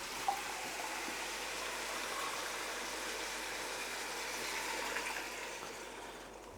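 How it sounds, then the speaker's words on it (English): Tap water pours steadily into an emptied can of tomatoes to rinse it, a continuous broadband splashing rush at close range, alone with no talk, in a home kitchen during a cooking prep session. "And I'll rinse out the can with some water."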